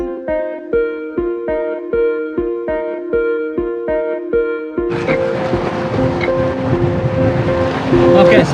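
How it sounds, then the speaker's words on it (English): Waves crash on an overcast beach, arriving as a sudden broad rush of surf about halfway through and then churning on continuously under steady melodic music. "some of the waves are still crashing over here"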